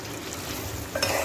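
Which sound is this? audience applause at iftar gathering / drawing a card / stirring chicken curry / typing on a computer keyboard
stirring chicken curry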